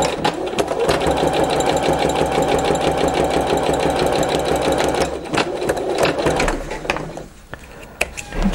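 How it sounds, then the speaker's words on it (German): Sewing machine stitching patchwork quilt block pieces with a quarter-inch seam allowance, a steady close rapid mechanical whirring run of needle strokes that slows and pauses near the end before briefly restarting. "Und wieder mit 1/4 Inch Nahtzugabe nähen."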